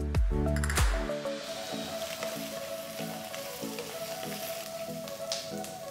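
Red chillies hit a pan of sautéed chopped onions with a sharp crackling burst, then settle into a steady, fairly quiet sizzle with soft popping.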